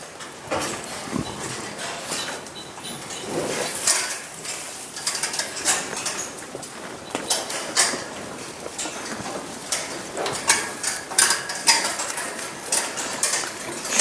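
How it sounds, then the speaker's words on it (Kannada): A machine cuts mixed cattle fodder at a cow shelter, producing continuous close mechanical clattering and rattling with irregular sharp clanks throughout. "ಎಲ್ಲದನ್ನು ಮಿಕ್ಸ್ ಮಾಡಿ ಮಷಿನಿಗೆ ಹಾಕಿ ಕಟ್ ಮಾಡಿಬಿಡ್ತೇವೆ ಎಲ್ಲದನ್ನು"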